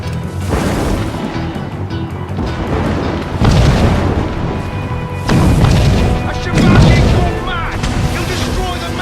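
Mortar shells exploding in the Assassin's Creed Rogue video game, several loud booming blasts about two seconds apart under a continuous bed of battle noise and music.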